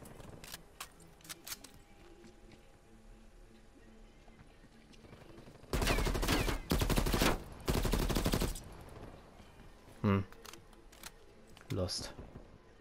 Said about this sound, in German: Ich bin so klein, man hört überall Schüsse.